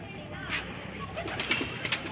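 Pigeons cooing softly among kept birds, with faint, brief calls scattered over a low background murmur.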